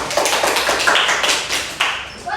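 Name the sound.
hands clapping in a classroom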